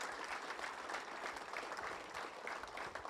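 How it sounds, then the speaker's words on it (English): Round of applause for volunteers at a high school bowling event held in a bowling center, an indoor audience clapping steadily and evenly for a few seconds without any speech. "if we could give all of those volunteers and people a round of applause"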